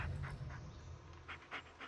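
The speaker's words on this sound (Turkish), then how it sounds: "Köpeğin Bulut." Bulut the dog from Blair Witch panting. Quick, rhythmic pants come close and clear, with soft breathy puffs and no talk over them.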